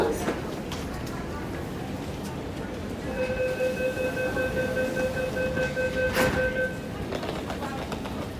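An MTR train at Sung Wong Toi station stands at the platform, a steady rumble of station noise with a sustained tonal whine mid-clip, like a door chime or motor tone, and brief voices in the background.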